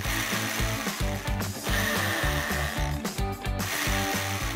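A power drill whirs in rapid ratcheting bursts, a loud, close, rhythmic mechanical grinding that repeats in short pulses throughout.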